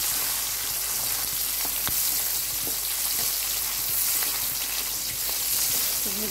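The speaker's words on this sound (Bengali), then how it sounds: "ভেজে নিচ্ছি ভালো করে।" Hilsa fish bones, rubbed with turmeric and salt, frying in a pan give off a steady, close, dense sizzle with occasional faint pops and stirring clicks.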